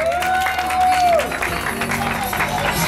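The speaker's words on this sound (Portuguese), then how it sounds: "Uma salva de palmas, galera" A crowd at a surprise tribute gathering in Cangaíba, Penha claps for the honoree, a steady applause with voices and a sustained tone mixed in, fairly close and loud.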